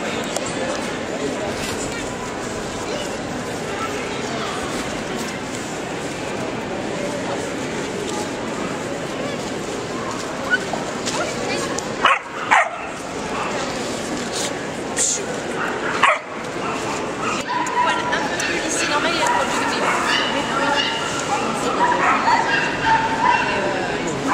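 A small shepherd puppy at a puppy show in Chartres barks, yips and whimpers repeatedly in close, uneven bursts, with people talking and general hall noise throughout.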